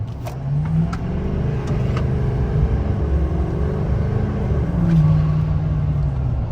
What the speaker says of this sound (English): Lots of cool turbo noises.